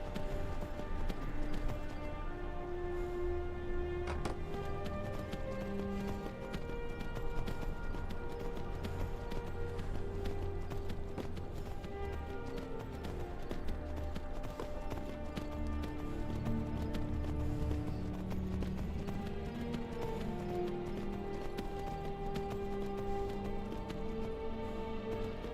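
Horse hooves clip-clopping in the Skyrim video game, a steady running rhythm of hoofbeats that carries on throughout under a continuous layer of game music.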